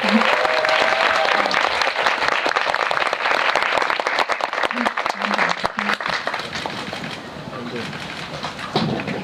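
An audience at a Korean cinema talk event for director Kim Yong-hoon and actress Jeon Do-yeon claps again in a full, crackling burst that thins out toward the end, with a voice speaking over it.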